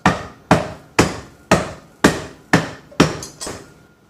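A pot strikes macadamia nuts sealed in a bag on a towel eight times, sharp and close. The thuds land in an even rhythm about half a second apart, each decaying quickly.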